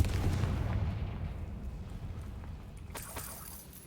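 Confringo spell explosion in Hogwarts Legacy, a loud rumbling blast that fades out over a few seconds, followed by a brief crackling burst near the end.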